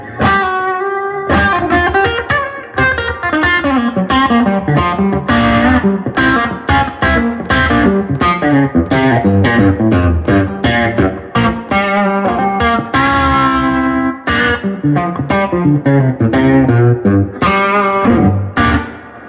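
An electric guitar with a P90 pickup, played through distortion and effects units, picks out a loud, continuous melodic blues line of sustained bending notes and quick phrases with no talk over it.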